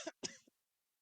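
Two quick, dry coughs close up, the second a little stronger, followed by silence.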